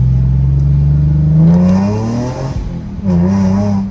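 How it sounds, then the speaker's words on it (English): A Nissan 370Z Nismo with an aftermarket cat-back exhaust revs hard and close, its tone climbing to high RPM with a faint high-pitched rattle, dropping briefly, then revving again. "when I hit high RPM, it rattles, and it's like a high pitch rattle"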